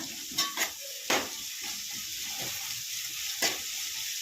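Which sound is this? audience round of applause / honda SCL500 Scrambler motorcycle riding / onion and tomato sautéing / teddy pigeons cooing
onion and tomato sautéing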